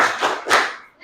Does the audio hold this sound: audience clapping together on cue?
yes